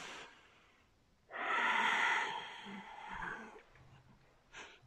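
A long, audible inhale through the nose during a face yoga breathing exercise, then a gentler release of breath and a short puff near the end, close and clear in a quiet room.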